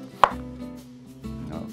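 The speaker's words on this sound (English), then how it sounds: "we're gonna cut onions." A knife cuts onions on a board, with one crisp, close chop followed about a second later by a softer one over a low steady background hum.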